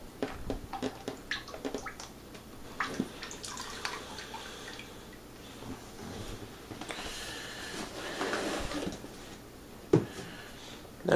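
Thick Fontana Pinot Noir wine kit grape concentrate is poured from a small bag into a fermenter, giving close, irregular liquid glugs, drips and splashes that swell and fade.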